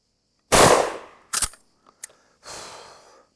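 A Winchester 1887 12-gauge lever-action shotgun fired without a stock: a single loud, close blast with a decaying tail, followed by the metallic clack of the lever cycling and a brief rushing noise.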